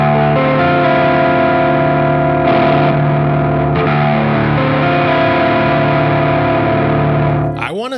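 Electric guitar with single-coil pickups played through an ODR-1 overdrive pedal with the gain cranked, giving a thick, saturated, slightly lo-fi sustained tone with held chords that ring steadily before cutting off at the end.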